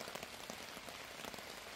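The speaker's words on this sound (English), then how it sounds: "it wasn't long before a little pitter-patter started on the tent" Rain patters on a tent in a soft, steady stream of fine drops, faint and close with no voices.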